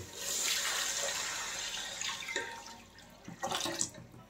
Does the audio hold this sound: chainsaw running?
no